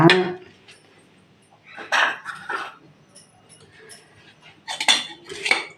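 Ghee biscuit dough with baking soda being mixed in a bowl, giving bursts of clinking and scraping strokes separated by quiet pauses, fairly close and moderately loud.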